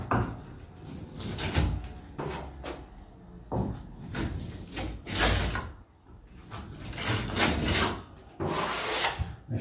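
A plastering trowel spreads plaster onto a ceiling in repeated scraping, rasping sweeps, each stroke a short rough burst followed by a brief pause, close and moderately loud with no talk.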